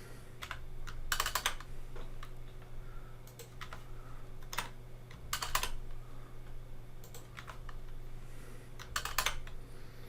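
Typing on a computer keyboard, with short bursts of rapid key clicks separated by single taps, close and fairly quiet over a steady low electrical hum.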